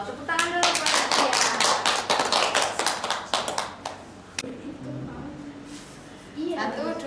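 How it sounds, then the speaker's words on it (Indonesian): A classroom of students claps for a classmate during a sociology lesson, a dense burst of hand claps lasting a few seconds before tapering off, followed by quieter room noise and a voice. "Tepuk tangan dulu buat Utia"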